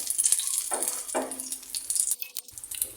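A Korean street-style sandwich fries in a pan with a steady sizzle and a few short scraping stirs. No one speaks.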